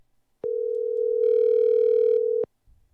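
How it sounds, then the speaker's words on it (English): A steady telephone dial tone sounds clearly for about two seconds while a call is being placed, then cuts off abruptly into near silence. "Let's see if I can get her on the phone here."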